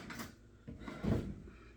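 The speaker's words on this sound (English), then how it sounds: "Oh, my spoon, I didn't take it out of the drawer yet." A kitchen drawer is pulled open to take out a spoon, giving a couple of short wooden scrapes and a soft clunk at close range in a quiet room.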